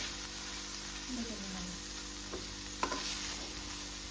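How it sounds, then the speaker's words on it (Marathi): Gram flour is stirred into a capsicum and curd dish on the stove, making a faint continuous sizzle with light scraping strokes and a couple of small clinks. "बेसन पीठ टाकल्यानंतर असं होतं ते तुम्हाला व्यवस्थितरित्या मिक्स करून घ्यावं लागतं"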